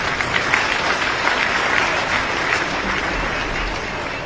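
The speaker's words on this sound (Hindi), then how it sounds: "उनके लिए एक बड़ा ताली तो हो जाए।" A crowd at a presidential event in Rajasthan applauds steadily throughout, a dense wash of many hands clapping at an even level with no talking over it.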